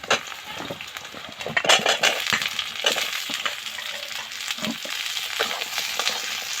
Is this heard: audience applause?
no